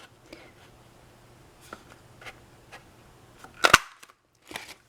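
A 1.5 inch circle punch snaps through card stock with one sharp crisp clack, followed by a few faint clicks and a brief rustle in an otherwise quiet room.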